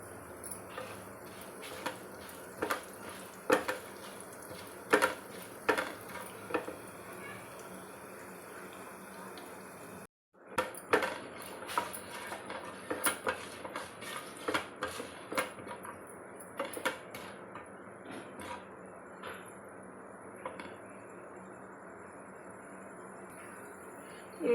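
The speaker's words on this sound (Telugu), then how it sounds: "ఇవి ధనియాలు జీలకర్ర వేగినాక" Coriander seeds and cumin frying in a pan for a tomato chutney, a continuous hissing sizzle dotted with small crackling pops, close and steady, briefly cutting out midway.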